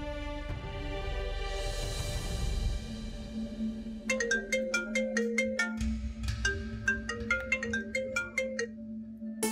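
A mobile phone ringtone plays for an incoming call, opening with a sustained synth chord and then breaking into a bright, rhythmic melodic pattern of repeating chimes, clear and close.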